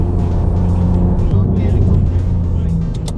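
A BMW M2 with valvetronic exhaust and JB4 tuning accelerates in second gear, its engine droning loud and close for the whole span while a person talks over it.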